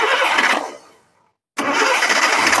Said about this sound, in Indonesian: coba kita start dari bawah aja tanpa gas